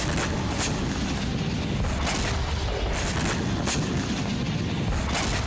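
Explosions from Russian attacks in Ukraine: repeated sharp blasts at irregular intervals over a loud, continuous roar of rumble and noise, with no clear voices.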